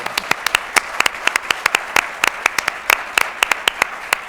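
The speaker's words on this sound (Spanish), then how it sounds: "les pido un aplauso, por favor, para él." A small audience claps after a talk, with sparse, irregular individual claps rather than a dense ovation, heard fairly close and steady throughout.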